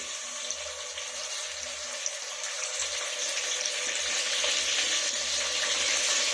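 Onion and tomato pieces fry together in a pan for vegetable biryani, giving a steady, close hiss and sizzle that holds evenly throughout and grows slightly louder toward the end, with no talking.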